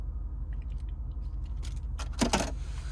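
A key fob for a 2026 BMW X5 M Competition gives a few light metallic jingles and clicks, building to a brief, brighter cluster of rattles, close by over a low steady cabin hum.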